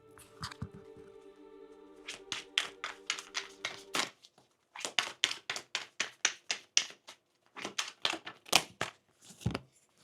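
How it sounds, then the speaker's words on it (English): Rapid bursts of crisp tarot card riffling and tapping come in quick clusters, close and fairly quiet, with short pauses between shuffles. "So let me just shuffle, guys."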